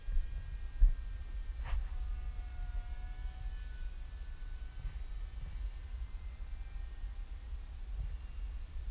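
An F-22 fighter jet passes overhead as a distant, low rumbling drone with a faint whine, steady and fairly quiet throughout.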